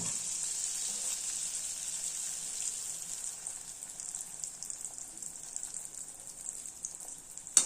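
Sweet appam batter frying in hot oil, a steady bright hiss of sizzling that stays even and close, fading slightly toward the end before a short clatter.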